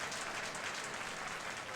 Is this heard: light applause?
yes